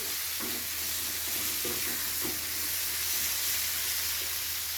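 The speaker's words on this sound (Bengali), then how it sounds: "ভেজে রাখা ভেন্ডিগুলো দিয়ে আলু আর ভেন্ডি খুব একসাথে ভালো করে মিশিয়ে নিচ্ছি" Fried okra and potatoes being mixed together in a hot pan for a masala bhindi aloo fry, a constant hissing sizzle with a few soft scraping stirs near the start, no talking.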